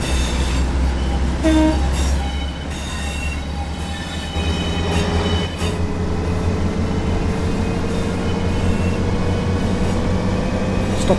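A BR Class 142 train in Train Sim World rumbles steadily along the rails toward a station with a low continuous hum and rising motor whine, occasional clicks, and no voices.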